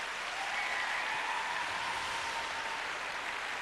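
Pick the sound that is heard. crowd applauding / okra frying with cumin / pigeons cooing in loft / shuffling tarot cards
crowd applauding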